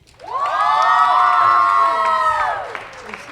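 An audience at a Poetry Out Loud recitation event bursts into cheering, whooping and clapping, a loud crowd roar that swells quickly, holds for about two seconds and then fades.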